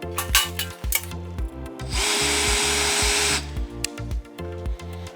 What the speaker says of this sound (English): Now that our holes are drilled,